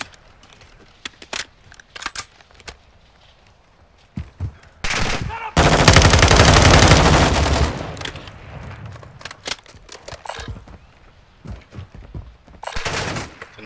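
Gunfire in the video game Call of Duty DMZ: scattered shots give way to a loud, sustained burst of automatic fire for a few seconds, followed by more intermittent shots, with occasional voices.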